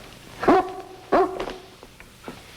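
A dog being readied for flea powder in a 1950s TV comedy scene barks two or three times at close range. Each bark is sharp and loud, with fainter yips and room noise between them.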